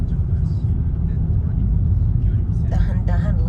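Road traffic crawls in a heavy jam during Golden Week, a low steady rumble of car engines close by, with a voice talking over the drone near the end.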